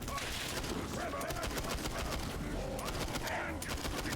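Rapid gunfire comes from the shooter game Borderlands 3, a dense, continuous burst of shots and impacts at moderate loudness, with a voice now and then over the top.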